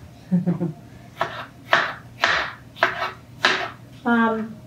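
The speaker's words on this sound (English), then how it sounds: "I'm just going to continue slicing strawberries while the pan is heating up there" Knife slicing fresh strawberries for French crepes, a series of six or seven short crisp cuts spaced roughly half a second apart, close and fairly loud, with a stove pan heating in the background.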